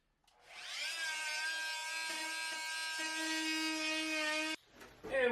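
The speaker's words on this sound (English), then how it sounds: "I will cut the baseboard so that this can fit nicely against the wall" Power tool cutting a wooden baseboard for removable closet shelves, a steady high buzzing whine that spins up, holds for several seconds with a shift in pitch partway, then stops abruptly.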